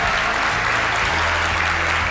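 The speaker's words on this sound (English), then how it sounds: "you're going to want to applaud" Steady, full audience applause fills a charity event hall for a single moms' graduation celebration, continuous dense clapping throughout with no voices on top.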